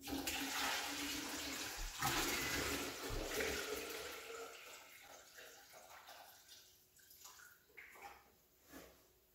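Water pours and gurgles into the tank of a Zojirushi CV-DCC50 hybrid water boiler, loud at first and then thinning into trickles and small splashes as the flow tapers off.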